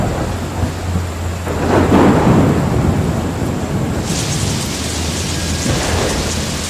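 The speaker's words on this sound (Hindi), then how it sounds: "बारिश तो थमने का नाम ही नहीं ले रही।" Heavy rain pours in a steady dense hiss while thunder rolls and rumbles low, swelling midway, with a continuous wash of downpour throughout and no voices.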